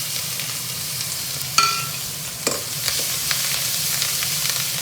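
Asafoetida, dried red chillies and coriander leaves hit hot oil for rasam, giving a continuous close sizzle with a few sharp crackles and stirring scrapes. No voices.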